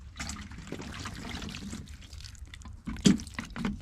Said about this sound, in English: So what we're gonna do is water it.